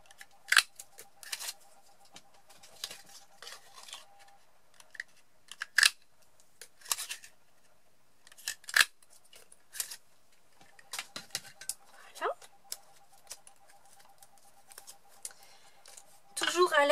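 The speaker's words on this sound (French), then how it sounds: "nous allons découper avec notre perforatrice 1 inch, 2 cercles dans chacune des chutes qu'il nous reste" A 1-inch paper punch cutting circles from scrap paper, a series of sharp close clicks and snaps spaced irregularly, with a faint steady tone behind and a louder burst of handling noise at the end.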